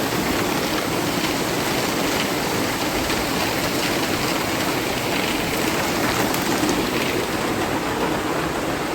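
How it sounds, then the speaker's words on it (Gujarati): Heavy rain pours down in a dense, continuous roar, loud and constant throughout with no voices. "તો જો ધમાકેદાર વરસાદ ચાલુ થઈ ગયો."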